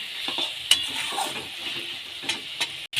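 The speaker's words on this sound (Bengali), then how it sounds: "এবার ভালো করে কষে নেবো এটাকে।" Goat brisket meat stir-fried (kosha) in a pan gives a steady close sizzle with stirring scrapes and a few sharper clinks, continuous and alone.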